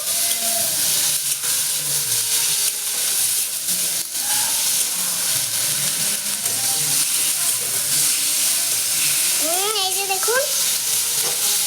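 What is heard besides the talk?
stirring spices frying in a pan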